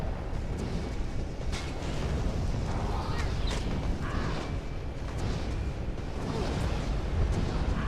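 Boss fire spin attack in Elder Scrolls Online, a steady loud roaring whoosh of flames with scattered bursts and pops running throughout.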